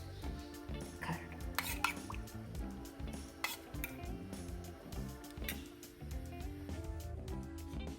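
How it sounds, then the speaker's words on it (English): Spoon stirring boiled cashews, garlic, butter and curd into an eggless, oil-free mayonnaise paste, giving steady close scraping and clinking against the bowl with a soft background hum. "Mix all the ingredients together."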